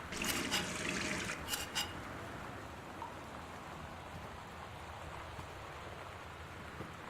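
Rain dripping and trickling in the game Gone Home, a steady soft wash of drops with a brief brighter patter early on, fading into continuous faint dripping with no talk.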